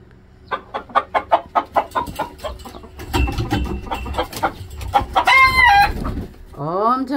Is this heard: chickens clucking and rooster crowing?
yes